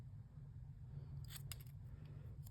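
Scissors trimming paper make a few quick, faint snips near the end over a low background hum.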